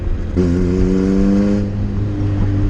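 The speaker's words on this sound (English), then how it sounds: "if I punch the gas" Honda car engine revving hard as the throttle is punched, a loud close-up rising drone with strong steady harmonics that holds for about a second before easing back, running alone with no talk.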